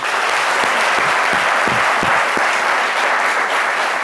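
Sustained applause from an audience honouring a singer at a tribute broadcast, a dense, steady wash of clapping that fills the whole stretch, with a few louder individual claps standing out early on.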